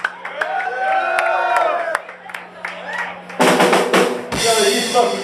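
Crowd at a hardcore punk concert at the Middle East in Cambridge, MA, bursting into loud cheering and yelling after a stretch of amplified feedback and a voice, close and raucous.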